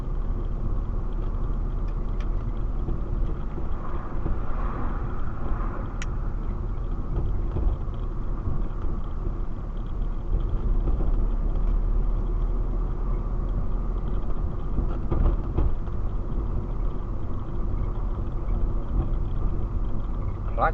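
Car on a test drive, a steady low engine and road rumble running throughout the clip with no sharp events, the drive sounding smooth and even inside the cabin.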